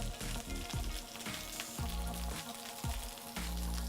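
Mushrooms sizzle loudly in a hot pan while charring for a vegetable ragù, a dense continuous frying hiss with a few stirring bumps, close up and without talk.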